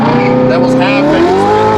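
A turbocharged, LS-swapped Winnebago spinning its tires on blacktop: a loud, close, rising whine of tire squeal over engine roar, with people talking over it.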